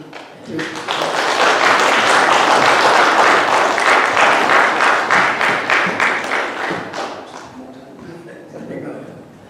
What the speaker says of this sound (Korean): 우리가 좀 뜨거운 박수로 우리 맞이해 주시면 감사하겠습니다